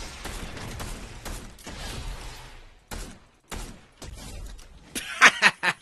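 Bursts of video game gunfire, a rapid volley of loud shots with sharp impacts and breaks between bursts, close and dense, building to a few heavy bangs at the end.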